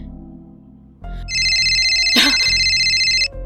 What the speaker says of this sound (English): My cell phone in my hand rang,